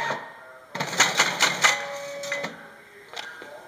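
A document feeder machine clatters through a full cycle of five sheets, giving a series of sharp mechanical clacks and whirs, fairly close, that peak then trail off into quieter motor hum.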